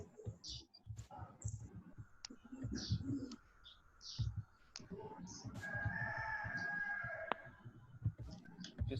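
A rooster crows once, moderately distant, under people talking and other bird calls in an outdoor setting.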